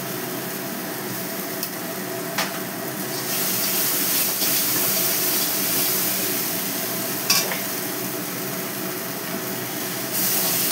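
Ginger paste sautés in a pan with a continuous bright hiss and sizzle, and a few sharp clinks and scrapes from stirring, heard close and steady with no voices.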